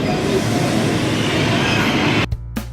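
Passenger train rumbling steadily on the line from Naples to Pompeii, a loud continuous roar of wheels and carriage noise that cuts out abruptly near the end, followed by a brief clunk.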